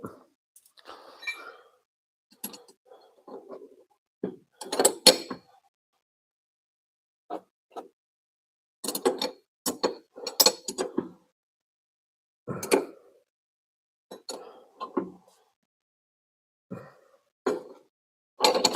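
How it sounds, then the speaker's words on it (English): Spanner wrenches click and scrape against the threaded suspension ring on an MR6 motorcycle, in short, sparse metallic taps and ratcheting bursts separated by quiet gaps, close and fairly faint. "I will say these are not the best spanner wrenches in the world, but they do get the job done"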